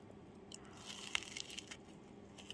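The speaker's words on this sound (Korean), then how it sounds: "두번째 크로플 바삭하고 맛있다." A crisp croffle, a croissant-dough waffle, is bitten and chewed up close, giving several sharp crunches and crackles in quick succession and then quieter chewing.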